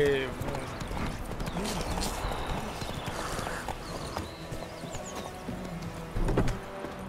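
Horse hooves galloping in a video game, a steady clip-clop rhythm at mid distance under game sound effects and talk.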